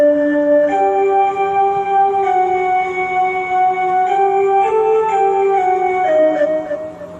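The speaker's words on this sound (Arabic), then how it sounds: "هذا أول صوت، صوت الصفير،" A keyboard whistle patch plays a sustained, pure-toned melody line with a slow rhythm and shifting notes, loud and close with no talking, from a keyboard set built for performing the score of the film The Message.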